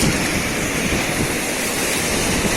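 Rushing river rapids on the Lae Kombih during rafting, a continuous loud roar of churning water and wind without pause.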